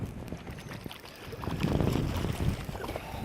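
Strong wind buffets the microphone while fishing from a boat on open water, a steady roar that swells louder midway, with water lapping against the hull and no talking.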